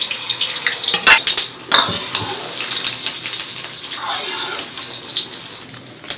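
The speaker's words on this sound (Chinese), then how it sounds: "来点油，炒一下， 下入鸡蛋" Eggs dropped into hot oil in a pan for instant noodle stir-fry, a bright close sizzle and crackle with a few sharp spits at the start that settles into a steady fry.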